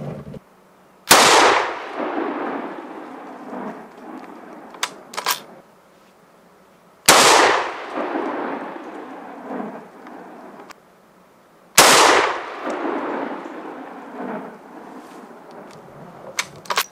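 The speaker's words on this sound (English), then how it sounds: "I'm starting with the longest barrel, and I'm shooting with a factory-made competition ammunition." Three .308 Winchester rifle shots from a long barrel with factory competition ammunition, each a loud sharp crack with a lingering outdoor echo, spaced about five seconds apart.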